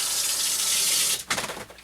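Water rushes through a home well-water acid neutralizer valve set to fast rinse, a loud, steady hiss that breaks into choppier gurgling surges near the end, with no voices.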